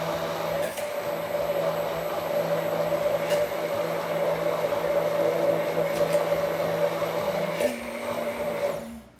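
An electric mixer whirs steadily while blending sriracha aioli, a loud continuous motor drone that shifts slightly in pitch near the end before cutting off.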